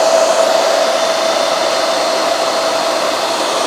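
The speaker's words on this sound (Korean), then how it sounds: "헤어 드라이기를 작동시켜 볼게요" A hair dryer run on its low setting from an all-in-one power bank, a steady loud whooshing fan roar with a faint motor whine, unchanging throughout.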